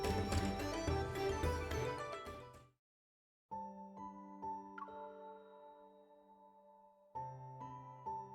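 Soft chiming bell tones from a video game ring out and sustain with gentle tinkling overtones, following a busier musical passage, then a brief silence and another chime.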